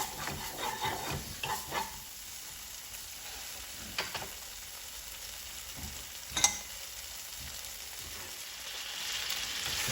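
Chicken fry with chilli sauce sizzles in a pan and is stirred, a continuous close frying hiss broken by a few clicks and scrapes of the spoon, with no talking.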